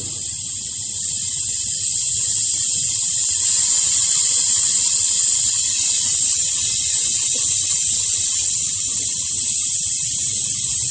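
Air hisses steadily and loudly out of a combi boiler radiator's bleed valve. The hiss runs continuously with no breaks and no speech.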